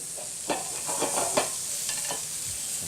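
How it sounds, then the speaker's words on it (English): Red onions sautéing over medium-high heat in about a tablespoon of rib eye pan drippings, with a steady soft sizzle and several scraping stirs, close and without talk. "We'll give them a saute over a medium-high heat."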